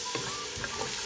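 Carrots go into a pan of vegetable pulao cooked without onion, setting off a steady sizzle and frying crackle with a few soft stirring scrapes, close and fairly loud, with no voices.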